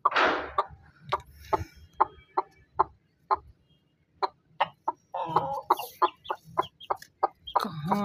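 A hen with two chicks clucks in a steady series of short, sharp calls, close and clear, with brief pauses and a few higher chirps mixed in, in a Punjab, Pakistan village.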